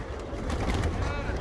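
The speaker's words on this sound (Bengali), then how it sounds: "তো এখন আবার দেখুন কত কবুতর" Many pigeons cooing together at Jannatul Baqi, a low, continuous throaty murmur of overlapping coos with a soft hum of people in the background.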